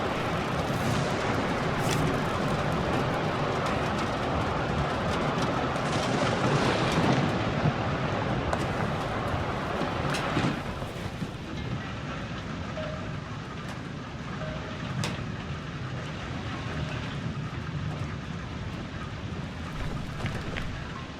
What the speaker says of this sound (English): The engine started.